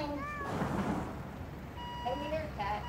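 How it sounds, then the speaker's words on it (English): A cat meows in the Wobbly Life video game: short tonal cries rise above steady game ambience and music, a few separate calls near the start and again toward the end, moderately close. "I hear a cat."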